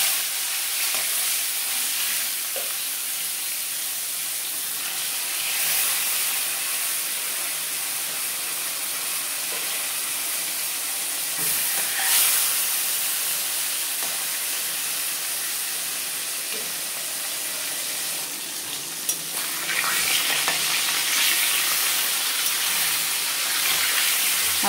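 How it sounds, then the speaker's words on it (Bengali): Koi fish frying in hot salted oil in a home kitchen: a steady, even sizzle and hiss that runs continuously, with brief flares of louder crackle, no voices. "এখন আমি মাছগুলো দিয়ে দেব।"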